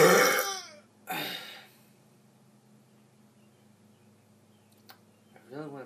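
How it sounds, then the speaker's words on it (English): A man burps on purpose: two loud, throaty burps in quick succession, then a long near-silent stretch with faint background hum, a small click, and a brief vocal sound at the very end. "alright, now the burps"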